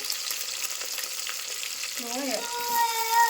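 Onions and halved green chillies sizzle steadily in hot oil, a loud continuous frying hiss with a brief stirring scrape near the end; no talking.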